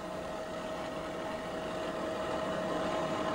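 Offshore racing powerboats pass in Miami, a steady engine drone throughout, a constant mechanical hum that swells slightly near the end, with no voices.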